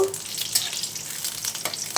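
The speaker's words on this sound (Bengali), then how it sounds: "তেলের ভিতরে দিয়ে দিচ্ছি তেজপাতা, এলাচ আর দারচিনি" Bay leaf, cardamom and cinnamon sizzle loudly in hot oil in a pan, a close, steady frying hiss with a few sharp crackles and pops.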